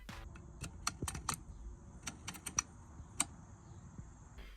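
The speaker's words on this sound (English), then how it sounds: "The adjustment knob is overtly marked and is both tactile and audible in its adjustment." The spring-loaded adjustment knob of a Riflespeed rifle gas control gives a series of quiet, crisp detent clicks, irregular and close, some in quick clusters, against a near-silent background.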